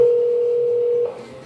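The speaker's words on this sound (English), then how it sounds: "Cybersecurity expert Jim Stickley sets up his phone to call my mom" A steady telephone dial tone hums alone for about a second while a call is being placed on a phone set up for a spoofing demonstration, then cuts off abruptly.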